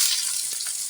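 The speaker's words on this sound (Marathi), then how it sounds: "मस्त असता कांदा परतून घेऊया" Onion sautéing in hot oil in a kadhai with cumin and mustard seeds gives a steady, close, loud sizzling hiss, heard alone in a brief burst.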